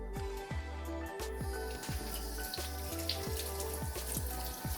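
Tomatoes are washed under a running tap, with a steady close stream of water and rhythmic splashing and dripping as they are turned under the flow, and no voices.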